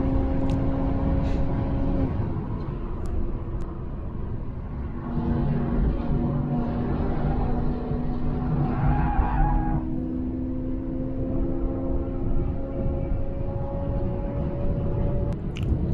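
A Tesla Model 3 Performance runs fast on the Nürburgring Nordschleife, its electric motor whine rising and falling in steady tones over loud, constant road and wind roar heard from inside the car.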